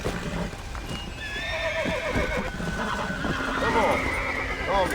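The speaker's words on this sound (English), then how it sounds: "Esse aqui é o cavalo zumbi." A zombie horse in the video game Red Dead Redemption gallops with steady hoof clip-clops and lets out several whinnies, loud and close, over game background sound.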